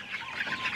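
Five-week-old Dominant pullets in a backyard flock in Cebu, clucking softly in a brief, close burst with no talk.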